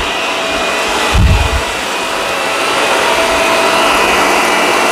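A Shark Rotator vacuum cleaner runs with its brush roll on the highest speed, giving a steady, loud motor whir and airy hiss, with a brief low thump early on as it moves.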